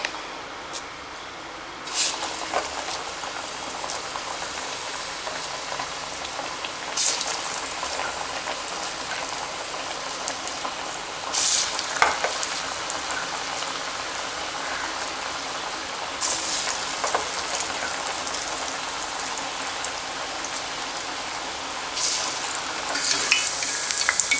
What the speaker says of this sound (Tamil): இன்றைக்கி நான் ஆயிலில் தான் அதை பொரித்து எடுக்க போகிறேன்.